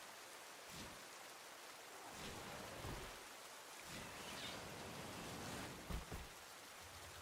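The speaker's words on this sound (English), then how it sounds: "Rain. It's peaceful." Rain falling in a Pokémon video game, a steady, soft hiss of rainfall that continues unbroken, with a few faint heavier patters.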